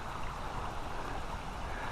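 Water in a Missouri creek running a little high after heavy rain, a steady continuous rushing and trickling flow that fills the whole stretch evenly, close by and alone without any voices.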